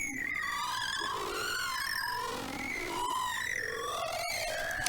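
Phase Plant pitch-shift granular smearing with jitter turned fully up, a dense, continuous wash of warbling, wandering tones that drift and swirl without a break.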